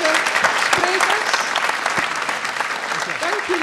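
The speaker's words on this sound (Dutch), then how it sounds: "Ik wil graag echt een daverend applaus voor deze sprekers." Loud, sustained applause fills a symposium hall on water safety, a dense wash of many hands clapping for the speakers, with faint voices and murmurs mixed underneath.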